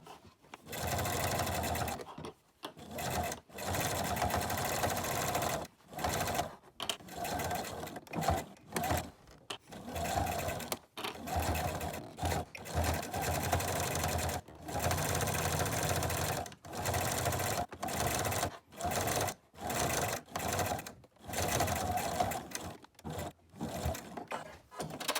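Domestic sewing machine stitching fabric for a face mask, a close, rapid mechanical whirr running in repeated bursts of a few seconds each, separated by short pauses.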